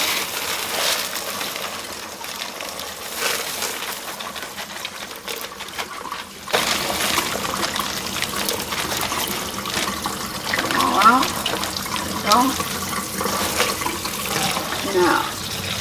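Water running over pinto beans as they are rinsed, a steady close hiss and trickle that gets a bit fuller partway through, with a voice talking over it.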